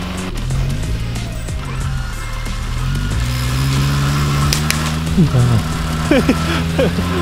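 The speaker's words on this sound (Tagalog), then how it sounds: "mamamatay na naman yung makina dahil mahina magkarga yung alternator niya" Car engine with a weak alternator, idling and revving at close range under continuous talk and shouting, its pitch rising and falling as the engine strains.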